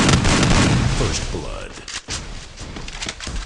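Gunfire crackles in a shooter video game as shots come down from above, a dense burst of rapid reports at the start that thins into scattered pops, with a voice talking over it.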